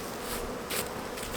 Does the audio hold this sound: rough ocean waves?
no